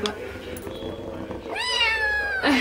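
A cat at an animal shelter lets out a loud, long, drawn-out meow, close to the microphone, with a brief spoken word and faint background noise just before it.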